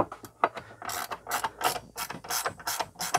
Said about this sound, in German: Dafür benutze ich jetzt dann diesen kleine Ratsche.